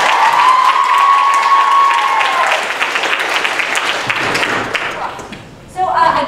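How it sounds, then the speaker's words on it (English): A classroom audience applauds a visiting Hamilton touring cast, a loud sustained wash of clapping with crowd noise that tapers off, followed by a brief voice near the end. "Another round of applause, please."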